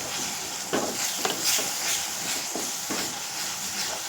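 Turmeric powder and spices sizzle in hot oil while tempering for a lentil dish, a steady bright hiss with a few crackling bursts and no talk.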